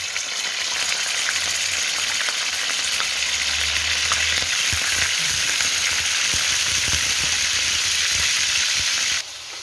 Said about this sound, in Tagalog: habang pinipirito ko ang isda